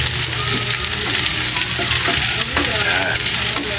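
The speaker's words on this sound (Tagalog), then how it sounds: "Sunod naman natin yung sibuyas. Yan. Siyempre halo-haloin lang natin." Onions stirred and frying in a pan while cooking pansit bato, a steady loud sizzle with scraping stirring strokes throughout, no talking.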